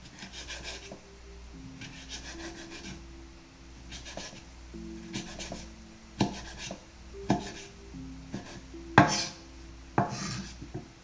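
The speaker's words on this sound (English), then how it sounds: "So we're just kind of roughly chopping these." A knife roughly chopping vegetables on a cutting board for a crispy skin salmon meal, with irregular hits and scraping strokes, close and fairly quiet over a low steady hum.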